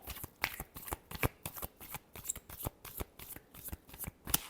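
Tarot cards are shuffled by hand in quick, rhythmic bursts of crisp riffling and snapping, close and fairly loud, with no voices.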